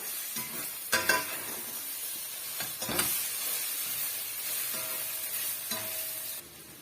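Cooked rice and egg being stirred in a hot pan, a continuous gentle sizzle with a few louder scraping strokes of the spoon near the start, close and fairly quiet, ending abruptly; nobody speaks.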